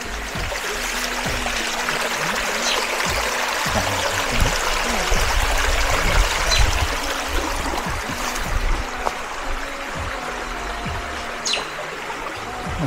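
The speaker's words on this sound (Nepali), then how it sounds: "पानी देखाउँछु साथीहरू" A small stream flows through a Tasmanian forest, making a steady trickle and babble of water close by, with a few faint bird chirps above it.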